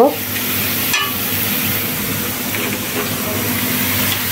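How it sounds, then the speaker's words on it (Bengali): Minced meat tipped into a pan of deep-browned fried onions, setting off a loud, steady sizzle and hiss of frying that runs unbroken throughout. "এখন আমি ওই কিমাগুলো ঢেলে দিব।"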